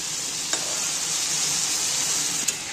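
Fried vegetables sizzling and hissing in a pan as water goes in for a vegetable dal, a steady close frying hiss with a couple of faint clinks and no talk.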